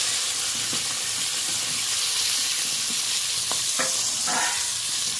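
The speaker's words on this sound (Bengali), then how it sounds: "এবার আমি বিনসগুলো একটু হালকা করে নেড়ে নেব।" Home-grown garden beans stir-fry in a pan with a continuous close hiss of sizzling, broken by a few short spatula scrapes near the end, no talking.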